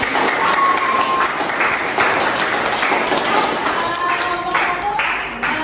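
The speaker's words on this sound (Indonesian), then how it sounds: "Tepuk tangan untuk kelompok 5." Classroom audience applauds a student group after its question, a dense continuous wash of clapping from many hands with a few voices briefly heard through it.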